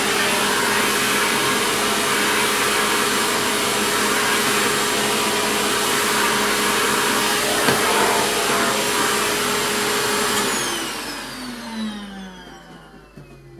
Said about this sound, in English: just get yourself a vacuum cleaner like this with a brush nozzle on it